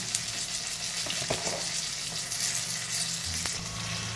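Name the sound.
green chilies, cumin and coriander seeds frying in oil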